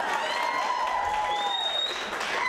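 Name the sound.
audience applause at stand-up comedy show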